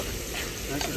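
Chicken liver (kaleji) fries in a hot pan outdoors, a dense, steady sizzle with stirring scrapes running the whole second, loud and close with no talk over it.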